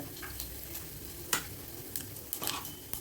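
Cinnamon and fennel seeds crackle and sizzle in hot oil, with a few sharp pops and stirring scrapes over a soft background hiss.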